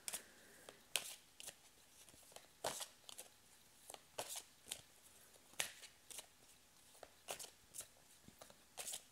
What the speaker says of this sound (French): je tire plusieurs cartes pour analyser la situation